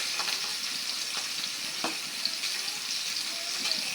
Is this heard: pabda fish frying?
yes